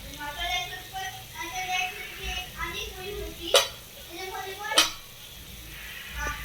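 Onion and tomato stirred with red chili powder in a pan, a soft scraping stir with gentle frying sizzle underneath and two sharp utensil clinks against the pan.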